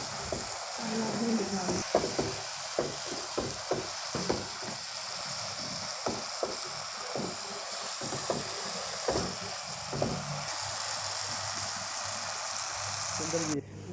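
Fried okra tipped into roasted masala in a pan for restaurant-style achari bhindi, with a steady, close sizzle throughout and repeated sharp scraping and stirring knocks from start to finish.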